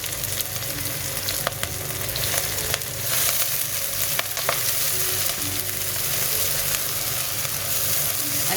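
Ginger garlic paste and curry leaves sautéing in hot oil, with a loud, steady close sizzle and scattered scrapes and clicks from stirring throughout, no talking.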